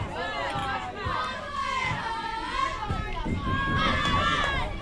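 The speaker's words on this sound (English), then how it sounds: "that cheering coming out of the dugouts" Kids' cheering and shouting pour out of the dugouts at a U13 boys and girls softball tournament, a steady, lively crowd roar with high young voices calling over one another throughout.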